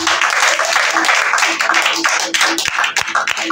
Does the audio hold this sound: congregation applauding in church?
yes